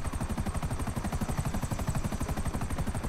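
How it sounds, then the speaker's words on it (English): Helicopters in the GTA 5 video game give a loud, fast rotor chop, a rapid steady pulse of thuds with whine above it. It runs continuously and close throughout with no talk. "Here we're coming up to the area where the helicopter spawn, and all you have to do is take them out."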